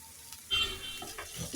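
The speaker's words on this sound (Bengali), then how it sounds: "আরো কয়েক মিনিট নেড়ে চেড়ে কষিয়ে নেব আমি।" Spices with turmeric, red chili and coriander powder fry in an egg and potato curry while a spoon scrapes through them, a brief close sizzle with a sudden stirring scrape partway through.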